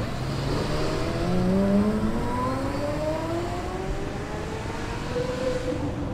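A Porsche drives past at the Das Renntreffen car show in Miami, its engine note climbing steadily through the gears over loud, close background rumble.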